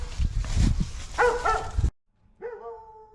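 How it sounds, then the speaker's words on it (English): A dog barks nearby at a home where a larger wire and breaker are being run for a new AC unit, several loud barks and yips over background noise, then one whimpering bark after a short silence. "we gotta sit here and listen to this dog barking"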